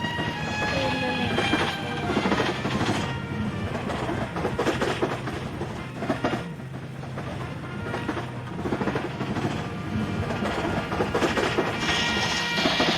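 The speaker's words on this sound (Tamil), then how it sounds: "This is called கச்சடா முச்சடா train." A train in the Roblox game Build a Train rumbles along continuously with rhythmic clattering and loud mechanical noise, a dense steady roar throughout with no voices.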